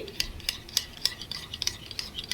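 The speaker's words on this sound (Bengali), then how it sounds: "আমি এখানে তিন টেবিল চামচ টক দই ফেটিয়ে নিচ্ছি" Three tablespoons of fresh sour yogurt are whisked in a bowl, making a quick, regular series of light metallic taps and clicks, about three or four per second, close and clear with no voices.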